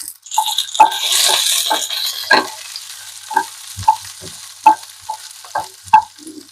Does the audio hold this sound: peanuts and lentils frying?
yes